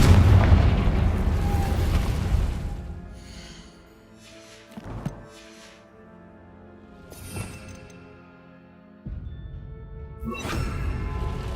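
Confringo blasting spells go off in the Hogwarts Legacy video game during a fight with goblins: a heavy opening boom that rumbles away, then smaller thuds and crackles, and another loud blast toward the end.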